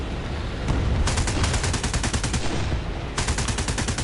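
Aircraft cannons and machine guns fire in War Thunder, including 20 mm tail-gun cannons, in loud sustained bursts with a brief pause and then a second rapid burst, under a constant engine drone.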